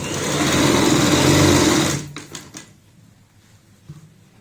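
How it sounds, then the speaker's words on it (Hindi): A sewing machine stitching a baby frock hums steadily at close range for about two seconds, then stops, leaving a few soft clicks and handling noises. "फोल्ड करते हुए सिलाई लगाएंगे"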